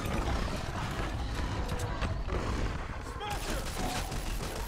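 Rapid bursts of automatic gunfire in the Fortnite video game during a boss fight, loud and dense, with layered shots and game effects running continuously across the clip.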